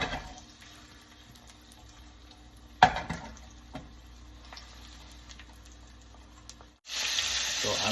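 The fat side of a beef steak sears in a pan with a soft, steady sizzle, broken by a few sharp knocks and handling sounds. Near the end a loud, bright hiss of sizzling or running water swells up.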